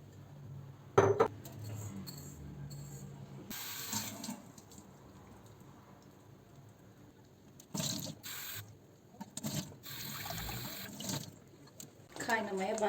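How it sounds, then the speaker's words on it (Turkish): Broken rice washed with water in a kitchen, with running tap water, splashing bursts and swishing in a bowl alternating with quieter stretches. "Şimdi şu kadar bir kırık pirincim kalmış. Bunu yıkayacağım."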